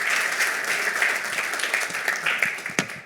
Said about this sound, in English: Könnt ihr mal applaudieren